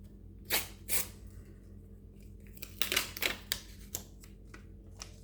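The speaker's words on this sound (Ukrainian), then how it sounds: "Відкриваємо цілих три пакетика." Crinkly paper packets being torn and opened in short bursts, a few sharp rips and rustles close by, with quiet pauses between.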